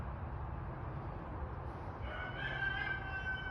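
A backyard rooster crows once, a drawn-out call rising partway through over a steady noisy outdoor background, moderately distant and without any talk.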